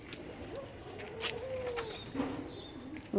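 Pigeons coo softly nearby in low, rolling calls, with a few faint chirps and light rustling around them.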